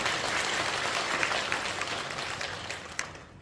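Audience applause at a Korean church inauguration thanksgiving service, a dense steady clapping from a large crowd that continues throughout and fades slightly toward the end.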